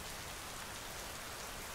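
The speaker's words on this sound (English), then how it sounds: "with the speeding raindrops falling from the atmosphere" Steady rain falling, a dense, even hiss of countless drops on surfaces with no pauses or other sounds.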